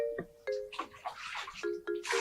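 Water splashes as it is poured over a person in irregular bursts, mixed with short tonal cries or squeals, fairly close and moderately loud.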